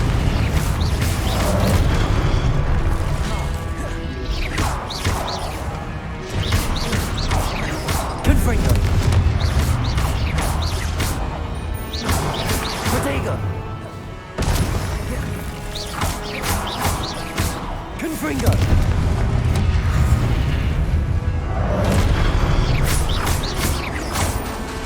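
Fire spell explosions go off in Hogwarts Legacy, loud repeated booms and crashes with mechanical clatter in dense combat noise, and a voice is heard over them.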